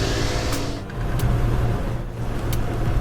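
Car on a curving road idling and rolling nearby, a steady low engine rumble with slight revving as it moves and reverses, no voices.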